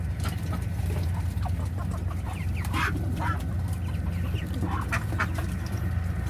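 Ducks, including white Peking ducks, quack repeatedly among clucking native chickens, a noisy flock chattering close by over a steady low hum.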